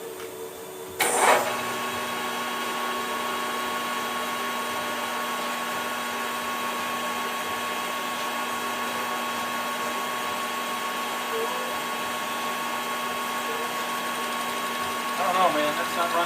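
A metal lathe runs in gear while boring a cast iron handwheel, a steady close whirring hum with a sharp clank as it engages and a rattle near the end.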